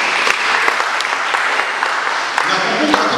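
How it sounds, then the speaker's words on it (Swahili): Church congregation clapping and ululating during a Swahili service, a dense continuous wash of applause with sharp claps and shrill trilling cries, loud and close throughout. "Mpige Yesu makofi na vigelegele."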